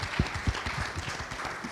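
Audience at a Bitcoin conference stage session applauds briefly, a thin scatter of claps at moderate distance, fairly faint, with some voices murmuring underneath.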